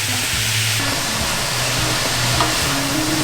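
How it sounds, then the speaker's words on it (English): Peppers and crispy sausage frying and being stirred in a pan, a dense continuous sizzle with faint scraping, close and loud, no voices. "And now we're going to let these peppers cook down now,"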